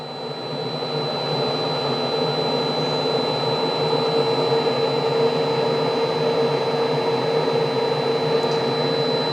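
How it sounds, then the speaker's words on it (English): An electric blower pushes air through a hole into burning charcoal in a Char-Griller E1224 Smokin' Pro smoker, a steady close whooshing roar with a constant high whine that holds unchanged throughout. "I slowly blow air in there"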